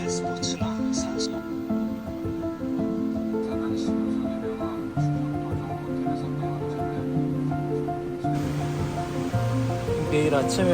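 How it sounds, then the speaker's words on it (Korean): The steady, continuous rush of a waterfall at a campsite fills the background, with music playing over it throughout. "폭포 소리 들리시죠?"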